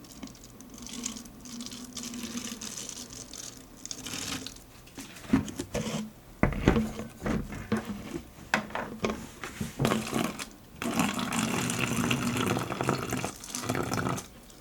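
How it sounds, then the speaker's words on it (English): White vinegar poured from a container into empty plastic water bottles, a steady splashing trickle that stops and starts in several runs, close and fairly loud, with no talking. "we're going to fill each water bottle up to the second line with vinegar."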